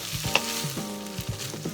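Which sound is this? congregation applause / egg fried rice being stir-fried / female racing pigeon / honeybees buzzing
egg fried rice being stir-fried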